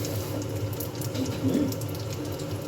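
Water is poured into a frying pan of carbonara pasta, running and splashing steadily for a few seconds, close by, with a soft continuous trickle and low background hum.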